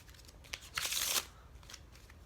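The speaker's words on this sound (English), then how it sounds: "I would first have my spectator shuffle the deck" A deck of playing cards is shuffled by hand for a card trick. A few soft riffles build into one louder burst of rapid flutter near the middle, then trail off into quiet clicks.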